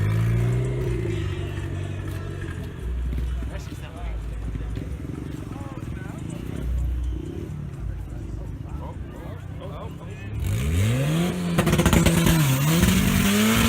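An Infiniti G35's turbocharged engine rumbles under a busy crowd at a car meet, then revs hard on two-step near the end, rising and falling in loud sweeping bursts.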